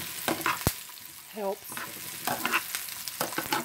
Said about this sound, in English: I fried the potatoes first, and now I'm cooking the onions